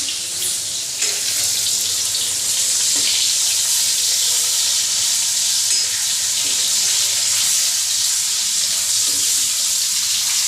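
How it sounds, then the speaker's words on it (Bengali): Shrimp and fish fry in a pan, a constant bright sizzle with occasional stirring scrapes, close and loud, no talking over it. "আচ্ছা এটি ভাজা হোক"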